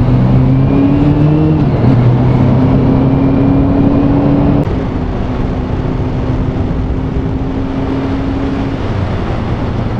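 A Honda CB400SF motorcycle on the road, its engine droning steadily with tones that rise and shift as it accelerates, loud and close over constant wind and road rumble, no talking.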